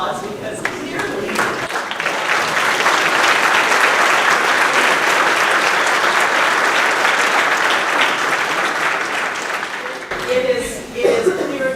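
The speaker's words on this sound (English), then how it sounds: "give you a round of applause" A steady, full round of applause from a room full of people at a safety flag award ceremony, dense and sustained for several seconds before fading into a voice speaking.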